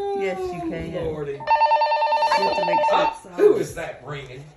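A telephone bell rings in one sustained burst at a moderate distance, while people chat indoors before and after it.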